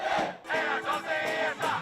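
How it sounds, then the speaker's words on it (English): A youthful crowd protesting the military coup in Myanmar cheers and shouts together in loud, rolling bursts of massed voices, close and energetic, rising and falling in waves. "The youthful energy of this exuberant crowd nearly disguises the threat they face for being here, protesting the military coup in Myanmar"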